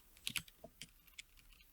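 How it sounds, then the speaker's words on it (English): Someone types on a computer keyboard with small accent keys: a quick, irregular run of light, close clicks, crisp and fairly quiet, with no voices. "when I'm typing along"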